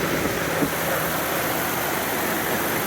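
A white 1997 Lexus LX450 idles just after a cold start with its cooling fan spinning, a steady, even rumble and broad whooshing hum heard close up with no talking.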